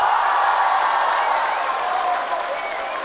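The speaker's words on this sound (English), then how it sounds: "Please clap your hands together continuously to welcome Mr. Ryan Giggs and Mr. Paul Scholes to the s" Students applaud to welcome two former Manchester United footballers onto a school stage, a loud, continuous crowd clapping with cheering mixed in, sustained throughout.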